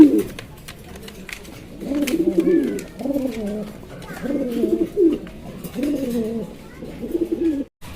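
Blue bar racer pigeons coo in a loft, a series of close, throaty rolling coos that come in about five bursts with brief quieter gaps between.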